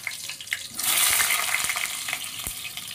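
Halved potatoes hit hot oil in a wok: a few light taps, then a sudden loud hissing surge that settles into a steady sizzle with occasional clicks, close up and without voices.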